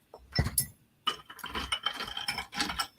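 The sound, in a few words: ice cubes clinking in a glass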